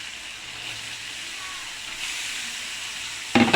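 Pigeon meat going into a pan of fried spiced masala with tomato gives off a steady hiss of sizzling and steam. A sharper, louder burst comes right at the end.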